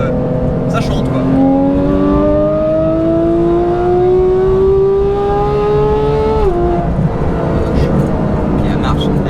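A Porsche GT3 fitted with a new aftermarket exhaust revs up in a long, rising, tuneful wail that climbs steadily for several seconds before dropping off sharply, loud and close with a steady engine rumble underneath.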